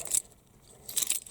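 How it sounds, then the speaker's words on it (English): A ring of keys jangling close by, two short metallic rattles separated by a brief pause. "There's my keys."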